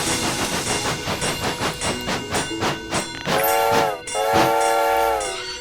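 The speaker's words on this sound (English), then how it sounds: "Almost missed that one whistle." A train whistle blows in a freight train video game, with a run of rhythmic chugging puffs followed by two loud sustained whistle blasts separated by a brief break.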